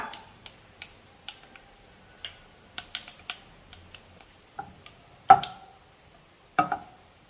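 Scattered sharp pops and crackles of mustard and fenugreek seeds spluttering in hot oil, irregular and sparse, with a couple of louder bursts near the end.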